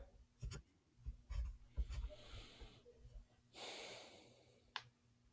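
Someone takes a slow, deep breath, a soft airy inhale and exhale close to the microphone amid faint rustling, with no talk.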